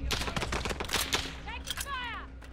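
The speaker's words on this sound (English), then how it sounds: "Taking fire here." Rapid bursts of gunfire in Call of Duty Warzone, a close chattering rattle of shots with whistling tones and a radio-style voice speaking over it.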